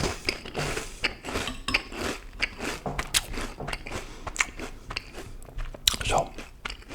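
Cereal being eaten close to the microphone in a cereal and coffee mukbang, with loud crunchy bites and chewing along with faint spoon clinks, while a person talks softly throughout.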